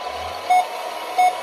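Reversing beeps from a GT Power entry-level sound and light system on an RC container truck: two short, clear electronic beeps about 0.7 seconds apart over a faint steady hum.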